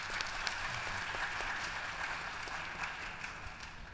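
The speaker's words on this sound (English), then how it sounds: "Let's give them a round of applause." An audience gives a panel a round of applause after a discussion session. The clapping is faint and distant, a steady wash lasting several seconds with no voices.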